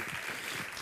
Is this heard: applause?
yes